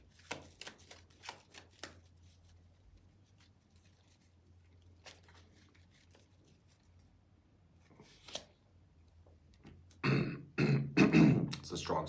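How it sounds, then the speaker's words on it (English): Tarot cards shuffled and drawn by hand: faint papery riffles and flicks scattered through a quiet stretch, ending in a louder, denser burst of shuffling. "I think I'm going to actually draw some cards today,"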